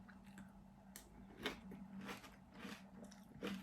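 Special K cereal is chewed close to the mic, a soft series of irregular crunchy bites and chews, quiet and intimate with no speech.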